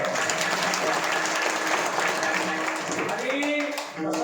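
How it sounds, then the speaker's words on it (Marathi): An audience claps in a broad sustained wash that thins toward the end, with voices and talk mixed in over the applause. "त्यांच्यासाठी एकदा टाळ्या वाजवा"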